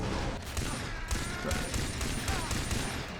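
Rapid bursts of Far Cry gunfire crackle continuously, loud and dense, with sharp repeated shots layered over one another.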